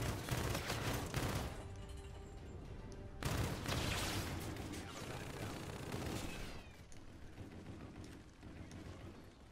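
Dense gunfire in a Call of Duty Modern Warfare 2 style Team Deathmatch match, with sustained rapid shots and bursts that fill the scene loudly before easing into continued battle noise.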